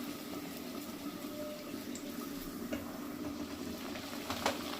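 Heart-shaped red luchi bread deep-frying in hot oil, giving a steady close sizzling hiss with small crackles throughout and no voices.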